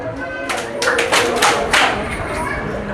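A group of people clapping together in sharp, irregular bursts at a New Year celebration, several loud claps close by with voices chattering around them.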